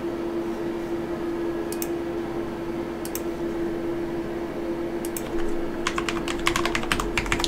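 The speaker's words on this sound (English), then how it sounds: "I hate using a keyboard I'm not used to." Typing on an unfamiliar computer keyboard, scattered single clicks at first and then a quicker burst of keystrokes near the end, heard up close over a steady electrical hum and no voices.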